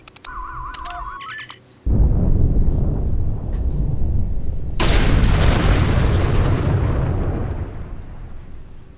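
A loud explosion booms in the video game Star Trek Online after a short electronic tone, followed by a long rumbling roar that swells again midway and slowly fades, with no voices.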